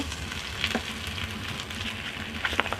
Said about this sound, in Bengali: বন্ধুরা পেঁয়াজটা আমি তেলে হালকা করে ভেজে নিয়েছি এখন আমি তেল দিয়ে দিচ্ছি একটু বেশি করে তেল দেব